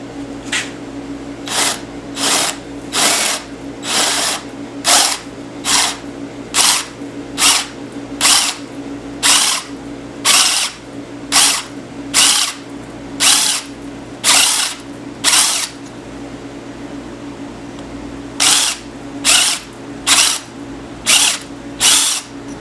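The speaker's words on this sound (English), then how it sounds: "the last thing I want is to push the drill through and drill into the hub" A power drill whirs in repeated short bursts while drilling a cutting-oiled metal hub on a Yamaha Commando Special, steady and close, with brief pauses between pulses and a longer gap before the final run.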